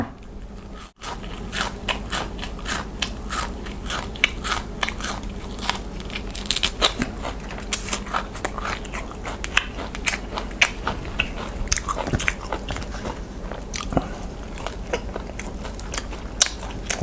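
Crispy pork eaten with spicy long bean salad, producing dense, continuous close-up crunching and chewing with sharp crackles throughout, loud and near with no talk.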